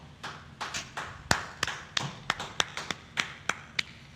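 Scattered hand claps at a Harlem gathering of the Israelite School of Universal Practical Knowledge, a dozen or so sharp, separate slaps rather than full applause, fairly close and moderately loud.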